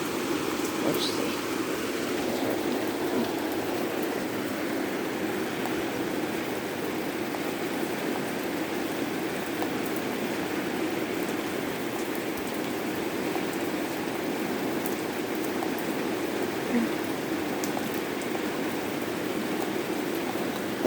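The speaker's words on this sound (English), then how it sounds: "Oh my gosh. How much rain." Heavy rainfall in a southeastern Pennsylvania thunderstorm with high winds makes a steady, close roar of pouring water and spattering on surfaces, continuous and even across the whole stretch.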